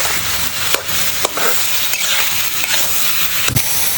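Spices are stirred into a beef tikka karahi in a pan, a loud constant sizzle with periodic scraping and clinking strokes of the spoon throughout.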